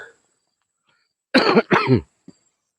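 Two harsh coughs in quick succession from a nearby woman, surrounded by near silence.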